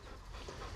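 Dogs pant steadily in quick, breathy rhythm, close but quiet, with no talking over them.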